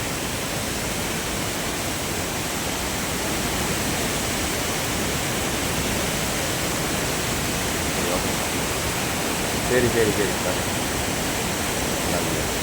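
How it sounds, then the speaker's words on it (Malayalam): Heavy flow of water dropping from a mountain height to low ground in a waterfall, a loud, steady broadband roar filling the scene, with a voice speaking briefly over it. "ഇതാണ് വെള്ളച്ചാട്ടം."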